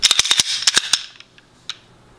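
A ported Glock 17 pistol firing 115 grain range ammunition: a quick burst of sharp, loud cracks in fast succession, a few quieter trailing shots, then one last isolated crack after a pause.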